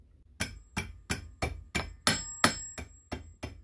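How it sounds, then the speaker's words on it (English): A hammer strikes a piano string bracelet to flatten it, nine sharp metallic blows at a steady, slightly quickening rhythm, each ringing briefly, close and alone. "So hammering this down,"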